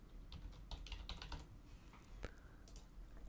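Keystrokes clatter on a computer keyboard while working in Maya software, a quiet, irregular run of clicks with no talking.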